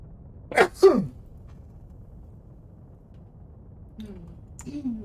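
Two quick sneezes in succession burst out near the start over a quiet room hum, followed a few seconds later by faint speech.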